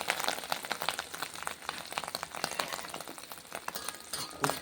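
Neyyappam batter poured into hot oil and frying, a busy crackling sizzle full of sharp pops and spatters that stays close and fairly loud the whole time.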